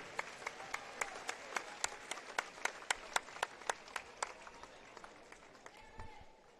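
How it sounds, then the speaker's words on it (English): Sparse, rhythmic clapping rings out in a gym at a boys varsity basketball game honoring fans, sharp distinct claps in a steady beat over a quiet room, fading near the end. "Let's give a huge round of applause for our Indiana Farm Bureau Insurance fans"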